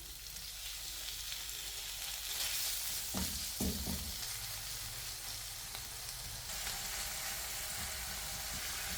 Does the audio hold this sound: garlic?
yes